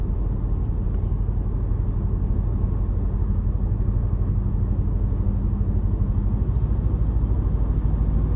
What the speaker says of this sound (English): I love the sound from the snorkel, even the exhaust as well